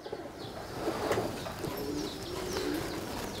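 Soft, repeated cooing from Punjabi Malwai pigeons, close by, with light chirps and a brief flutter of wings in the background.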